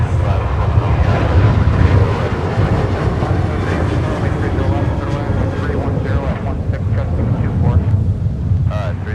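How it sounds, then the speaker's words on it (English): A Delta Boeing 737-800 roars down the runway on its takeoff roll at a wintry airport, a loud, continuous, broadband jet rumble that holds steady for the whole stretch, with wind buffeting the microphone and no talk. "We do have a 737-800 on the roll right now, blasting off to Detroit"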